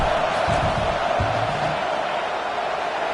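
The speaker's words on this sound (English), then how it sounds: "This crowd trying to do its part to get inside the kicker's head." Stadium crowd in an American football video game roaring steadily as a field goal is lined up, a broad, even wash of noise with a low voice briefly under it.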